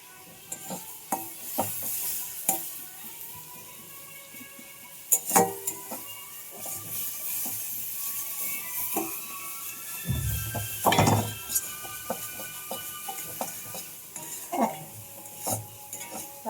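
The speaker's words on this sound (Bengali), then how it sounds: "ভালো করে একটু কষে নেবো মশলাটা" Masala for a thin egg curry, seasoned with salt and ground black pepper, is stirred and fried in a pan: repeated scraping strokes and utensil clinks over a soft, steady sizzle, close and fairly quiet.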